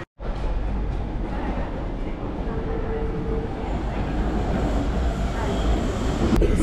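Barcelona metro train riding, a continuous loud low rumble and roar of wheels and carriage noise from inside the car, steady throughout with a faint murmur of voices.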